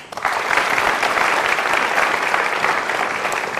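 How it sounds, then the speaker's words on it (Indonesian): An audience claps steadily and fairly loudly for several seconds, a dense even patter with no voices over it, greeting guests invited up to share their stories. "Boleh tepuk tangannya?"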